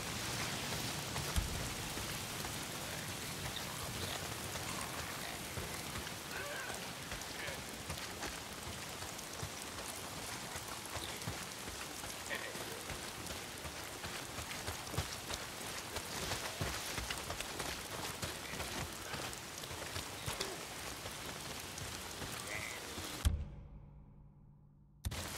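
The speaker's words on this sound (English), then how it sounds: "If it's not the freaks, it's the goddamn rain." Heavy rain in the zombie video game Days Gone pours steadily onto surfaces as a dense, even hiss for about twenty-three seconds, then cuts off abruptly.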